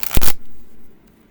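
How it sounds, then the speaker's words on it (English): A quick, loud riffle of flexible Magic: The Gathering cards being shuffled, a short burst of flapping card edges that stops abruptly, followed by quiet. "All right, so let's go ahead and do the shuffling."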